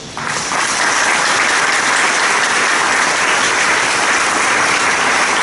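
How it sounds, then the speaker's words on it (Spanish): Sustained applause from a church congregation at a Sunday service swells in within the first moment, then holds as loud, dense clapping from many people for several seconds. "Dale un aplauso a Jesús."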